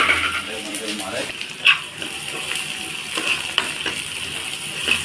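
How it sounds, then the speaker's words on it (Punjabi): A tadka tempering for saag sizzles in a hot pan as a steady hiss, with a few sharp clinks and pops from stirring near the middle and end. "ਇੱਧਰ ਆਪਾਂ ਤੜਕਾਂਗੇ ਸਾਗ ਲਾਵਾਂਗੇ ਆਪਾਂ ਤੜਕਾ"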